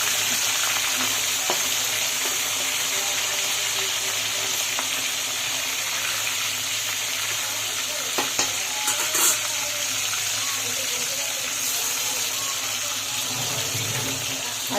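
Singi and shol fish frying in hot oil in a village kitchen, a loud continuous sizzle and crackle close up, with a few clinks and stirring noises over the steady hiss.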